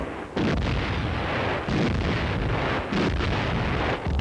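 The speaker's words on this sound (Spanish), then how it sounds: "Merezhkov lanzó su fuego de artillería más importante desde el del frente occidental" Heavy artillery fire in a First World War battle scene, a sustained rumbling barrage of deep booms with repeated bursts and wind-like roar, loud and continuous without speech.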